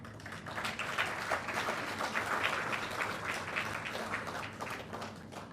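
An audience at a state-level award ceremony claps loudly as officials are honoured. The applause is continuous for several seconds, then gradually tapers slightly.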